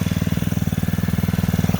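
A Honda GXH50 gold dredge motor idles at low speed while breaking in, pumping water: a steady, close, loud putter with an even rapid pulse throughout and no talk.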